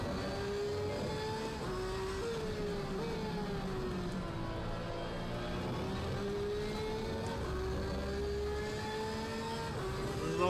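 A race car engine in the video game Assetto Corsa Competizione runs steadily and loudly, its pitch rising and falling as it revs through the gears, with no talking.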